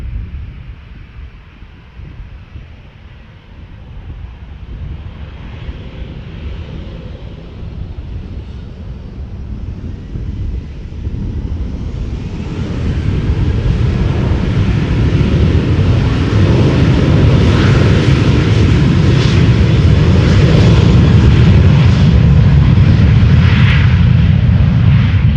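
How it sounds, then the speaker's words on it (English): Boeing 737 departing runway 36L at Amsterdam Schiphol, its jet engine roar swelling from a moderate rumble to a loud, sustained, broadband thunder that holds steady to the end, with some wind buffeting on the microphone. "Not sure if they are all going to take off in front of us like the 737 is going to do"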